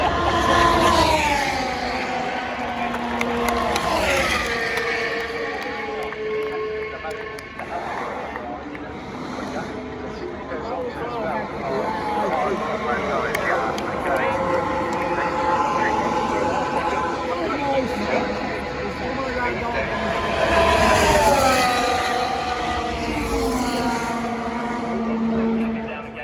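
Formula 1 cars at the 2022 British Grand Prix sweep down Hamilton Straight, engine notes rising and falling in pitch as several pass, loudest near the start and again toward the end, with a continuous broadcast-style voice running underneath.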